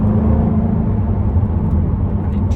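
A 2023 Jaguar F-Type 5.0 V8 R-Dynamic P450 AWD drones with a steady, loud low rumble from inside the cabin as its engine revs down and kicks down, with no one speaking.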